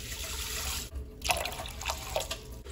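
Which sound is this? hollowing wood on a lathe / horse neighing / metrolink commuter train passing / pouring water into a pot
pouring water into a pot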